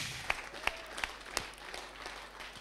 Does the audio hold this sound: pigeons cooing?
no